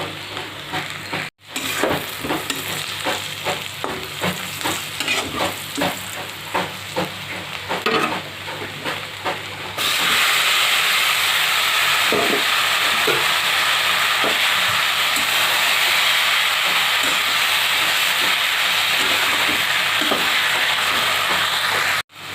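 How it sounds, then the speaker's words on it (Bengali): Onion, green chili and garlic frying in a pan, a steady loud sizzle with scraping stirs for the first ten seconds, then a denser, hissing fry that fills the rest without talk. "এখন পেঁয়াজ, মরিচ আর রসুন আমি নেড়ে চেড়ে হালকা লাল করে বাদামি করে ভেজে নেব।"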